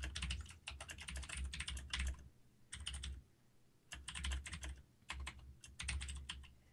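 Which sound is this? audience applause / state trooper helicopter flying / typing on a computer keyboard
typing on a computer keyboard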